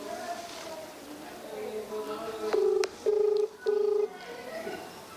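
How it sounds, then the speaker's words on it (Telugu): A mobile phone dials out with three short, steady beeping tones in a row after a few sharp clicks, heard near and over a murmur of background voices. "నేను ఫోన్ కూడా రింగ్ ఇస్తా, రింగ్ అవుతుంది, ఫోన్ చేస్తా వాళ్ళకి"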